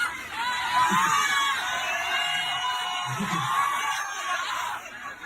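A large crowd at a public event in Bohol screams and cheers steadily, a dense wash of high excited voices with a few louder bursts rising above it.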